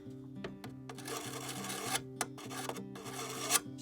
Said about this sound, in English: If it's really bad, you can grab your whetstone